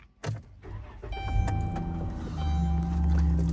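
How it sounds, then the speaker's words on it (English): A car engine starts nearby, a click and crank giving way to a rising, steady idle rumble with a faint whine, heard clearly with no talking. "Let me start my vehicle quick."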